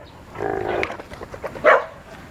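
A dog gives a short growling vocalization followed by a sharper bark-like burst, loud and close, in a brief outdoor encounter between two dogs.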